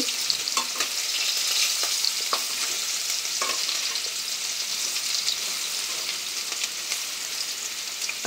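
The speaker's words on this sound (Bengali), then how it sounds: "আলুগুলো লাল লাল করে ভেজে নিচ্ছি।" Potatoes fry in oil in a wok, giving a dense, steady sizzle with small crackles and the occasional scrape of stirring, close and continuous with no talking.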